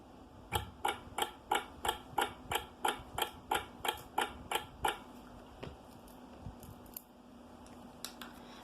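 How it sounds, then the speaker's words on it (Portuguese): A household clock ticks in a quiet room, a crisp, evenly spaced run of about a dozen clicks that then thins to fainter, scattered ticks. "isso que a gente escutou foi um relógio"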